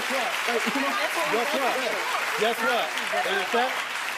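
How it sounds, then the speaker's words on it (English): A studio audience of a talk show applauds steadily while a voice speaks over the clapping. "Thanks for the applause"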